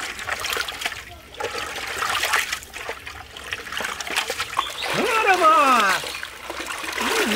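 Catla fish being washed, with water trickling and splashing in uneven bursts close by, while people talk over it.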